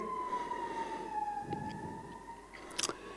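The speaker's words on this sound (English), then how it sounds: "The siren is meant to alert us to how important this is." A siren sound effect wails in a single long gliding tone that slowly falls in pitch, moderately loud with faint traffic-like noise beneath and a brief sharp burst near the end.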